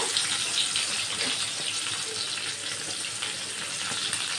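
Onions hiss and sizzle after going into hot oil in a pan, where potatoes were fried earlier, a dense, bright, steady crackle heard up close and alone without any speech.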